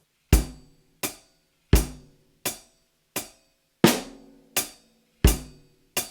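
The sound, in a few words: drum groove in 7/8, hi-hat, bass drum and snare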